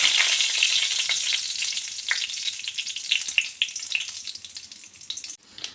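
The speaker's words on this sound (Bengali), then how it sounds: "এবার গোটা গরম মশলা, এখানে আছে শুকনো লঙ্কা, 5 ফোড়ন আর তেজপাতা দিয়ে দেব।" Whole garam masala, dried chilli, panch phoron and bay leaf dropped into hot oil in a kadai: a loud, close, crackling sizzle that is dense at first and gradually thins, with a few stirring scrapes and no voices.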